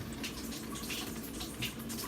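Clean water flows steadily from an Espring water filter unit, a quiet, continuous pouring hiss with faint splashing and no talking.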